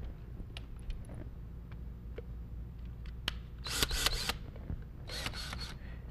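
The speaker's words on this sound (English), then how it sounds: "So now, on this side, I'm gonna work my other screws through." Screws being driven through a wooden shelf, with two short, close bursts of rapid mechanical ratcheting over a quiet room background and no talking.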